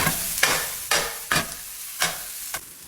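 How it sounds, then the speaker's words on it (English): Minced onions and garlic sautéing in a pan, a steady hiss broken by five or six stirring scrapes at roughly half-second intervals, close up and with no one talking. "Start by sauteing some onions and some garlic."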